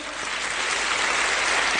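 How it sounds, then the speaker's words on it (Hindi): A dense, steady wash of audience applause fills the room at a business seminar, close and continuous without pauses. "महागुरु जी के लिए एक बार जोरदार ताली हो जाए।"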